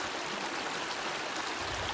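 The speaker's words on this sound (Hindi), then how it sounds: "नदी का आवाज़ देखो सुनाई दे रहा है आपको" A river in the Uttarakhand mountains rushes steadily along a trekking trail, a dense, continuous broadband roar with no pauses and no voices.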